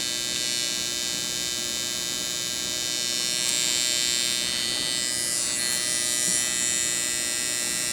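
A permanent makeup machine fitted with a V-Slope needle runs at a setting of 120 while eyeliner is applied, producing a continuous, even, high-pitched electric buzz heard close up and alone.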